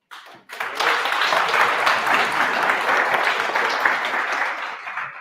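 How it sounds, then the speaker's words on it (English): An audience at a business workshop in Atteridgeville breaks into steady, sustained applause, a full even wash of clapping that starts abruptly and holds for about five seconds. "Let's give a proper round of applause for that."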